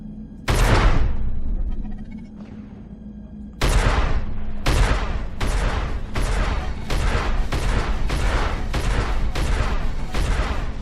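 Pirate ship guns fire in Star Citizen space combat involving a Starfarer Gemini, a burst of heavy broadband blasts landing in a rapid, regular volley of about eight loud shots after two earlier isolated booms, with a low engine hum beneath.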